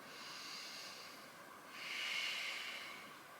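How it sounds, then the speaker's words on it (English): Slow, deep breathing during a morning yoga session, two long airy breaths heard close and soft, each a gentle hiss with no talking over them. "A couple more nice deep breaths here."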